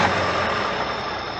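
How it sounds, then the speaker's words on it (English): A truck engine runs as a short sound effect in a story, a loud, close, steady rumbling idle lasting about a second and a half with no speech. "Joe started the engine, and the journey began."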